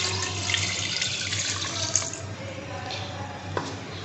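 Water poured from a tap-like stream into a pressure cooker holding khatti dal with salt and ginger paste, a steady splashing rush for about two seconds that then fades to quieter trickles and drips.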